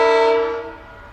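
Horn of DSG 3168, a diesel locomotive hauling an empty rake from Littleton towards Christchurch, sounds one loud, sustained blast that fades away over about a second.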